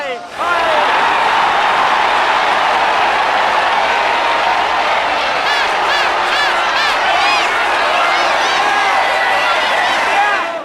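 Dense, roaring crowd of cricket spectators at a match in India, cheering and applauding continuously at full volume, with surging shouts rising and falling throughout and no clear single voice standing out.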